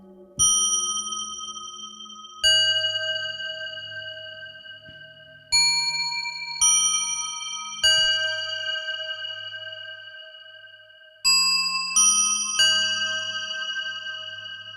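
Ambient bell tones from an Arturia MicroFreak synthesizer ring out one after another, each struck note shimmering with bright overtones and decaying slowly into reverb, with overlapping chimes and low gong-like undertones.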